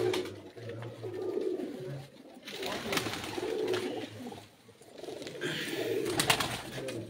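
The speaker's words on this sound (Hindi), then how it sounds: "ये आमिर के कबूतर, आमिर के परवाजी कबूतर हैं जी।" Pigeons, a prized high-flying breed, coo in soft repeated low bursts close by, with faint chirps and ambient noise throughout and brief quieter gaps.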